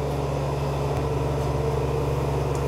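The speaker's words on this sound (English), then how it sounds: "You can hear the tank's running right now" Refrigerated milk storage tank on a dairy farm running steadily, a constant low mechanical hum with a faint electrical buzz, even and unbroken throughout with no talking.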